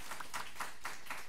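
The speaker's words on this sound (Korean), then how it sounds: "제가 박수해요" A single person claps at a church service, giving a steady run of evenly spaced, fairly soft claps, about four per second.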